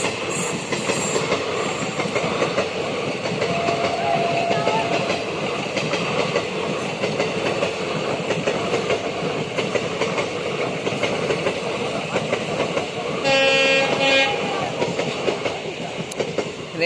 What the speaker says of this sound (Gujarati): અને જો રેલગાડી આવી